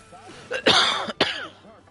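A couple of sharp coughs close by, with a bit of throat clearing, heard alone.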